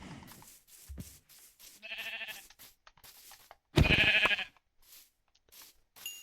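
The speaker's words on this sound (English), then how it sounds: "Sheep." Sheep in the Minecraft video game bleat in short, clear calls, two or three distinct bleats standing out over quiet background game sounds and footsteps.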